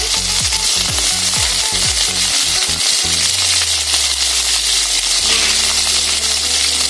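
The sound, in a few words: whole small onions frying in oil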